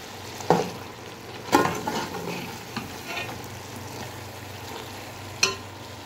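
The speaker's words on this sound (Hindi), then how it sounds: "अब डाल देते हैं इसमें पालक को और इसको भी अच्छी तरह कर लेते हैं मिक्स" A spoon scrapes and stirs spinach into chicken curry in a pan over low sizzling, with a few sharp knocks against the pan and a steady frying hiss underneath; no one speaks.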